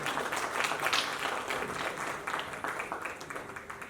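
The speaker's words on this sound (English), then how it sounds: "Let's give him a big round of applause and welcome him on stage." Applause at a mountain clean-up campaign event as a guest is welcomed on stage, a steady, somewhat distant rush of many hands clapping that eases slightly over its length.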